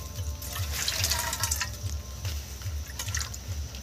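Plain room-temperature water pours steadily into a container in a home kitchen, a close, continuous splashing trickle with no voices.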